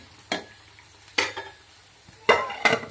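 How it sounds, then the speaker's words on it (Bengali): Cooked rice being moved aside in a pan with a utensil makes four separate scraping, shuffling strokes over a low sizzle, close and fairly quiet, with no talking. "আস্তে আস্তে ভাতগুলো সরিয়ে দেব"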